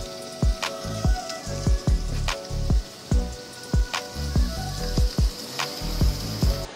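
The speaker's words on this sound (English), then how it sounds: "You hear it sizzle straight away, smoke." A ribeye steak sizzles on a Kamado Joe Classic 2 grill, a close, steady hiss broken by repeated sharp pops and crackles of spitting fat at irregular intervals.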